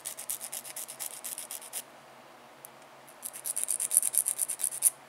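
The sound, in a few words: filing acrylic nail to shape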